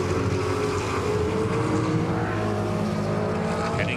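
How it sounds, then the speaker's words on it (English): Trans Am race cars at Mid-Ohio Sports Car Course roar continuously, a loud sustained engine drone with steady harmonic whine holding for several seconds without any speech. "Still, it's Dreese out in front in the early laps here at Mid-Ohio Sports Car Course"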